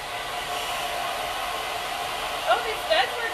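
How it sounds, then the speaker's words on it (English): A hair dryer blows in a steady, loud whooshing drone while drying Dixie Belle paint on a flatware storage chest, with a couple of brief faint sounds near the end. "It's just like Sally Beauty Supply hair dryer."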